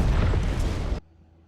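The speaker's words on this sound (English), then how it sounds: "That was a very fake explosion." A heavy, booming explosion from a Star Trek: Strange New Worlds episode, a loud, full-bodied blast that roars for about a second, then cuts off abruptly to near silence.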